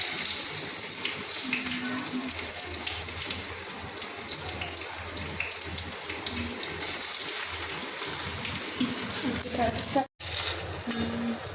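Water is poured steadily into a pan while brinjal curry cooks, a continuous splashing gush filling the whole stretch, with a brief clatter near the end and a voice talking at times.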